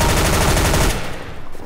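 Rapid automatic gunfire from Counter-Strike: Global Offensive, a loud, dense burst of shots for about a second, then trailing off into quieter rattling echoes.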